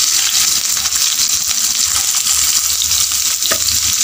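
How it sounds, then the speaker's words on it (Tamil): Onion with fennel and poppy seeds frying in hot oil in a pan for egg and vegetable momos, a loud continuous sizzle with crackling throughout, no talking. "ஆயில் ஹீட் ஆனதுமே சோம்பு கசகசா ஒரு ஸ்பூன் போட்டுக்கோங்க. இப்போ வந்து ஆனியனை சேர்த்திக்கலாம்."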